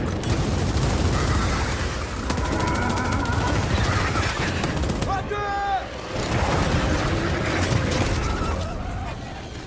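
Gunfire in the video game Gears 5, dense sustained bursts of rapid shooting with a brief lull, loud and continuous, with a voice speaking briefly in the middle.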